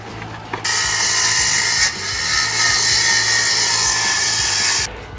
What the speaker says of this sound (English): 2 furring strips cut out of 1 bit of timber